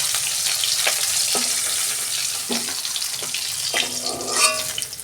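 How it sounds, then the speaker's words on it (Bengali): Tilapia fish frying in hot oil give off a loud, steady sizzle, broken by a few sharp clinks and scrapes as the pieces are turned and lifted out. "মাছগুলো আমি দুটো করে ভেজে নেব।"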